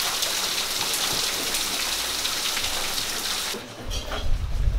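Heavy rain pours steadily onto surfaces in a village setting, a dense continuous hiss close by, with a brief dip near the end before the downpour swells again with low rumbling.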